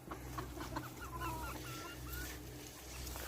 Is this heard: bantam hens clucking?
yes